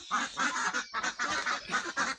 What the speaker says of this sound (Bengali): আর হাঁসের খাইতে দিই।